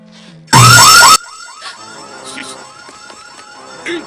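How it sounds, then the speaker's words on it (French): Loud blaring alarm on Bowser's machine in a Mario-based parody edit, one harsh burst of about half a second, followed by fainter chirping electronic tones and effects. "C'est une bonne chose d'avoir équipé cette machine d'une alarme anti-sainte-nitouche."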